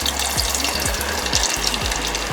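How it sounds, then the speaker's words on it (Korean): Glutinous rice sweet and sour pork deep-frying in hot oil gives a dense, steady, close crackling sizzle that runs evenly throughout with no talk. "처음 6분 튀기고 6분 레스팅, 추가로 4분에서 5분 정도 다시 튀길 예정입니다."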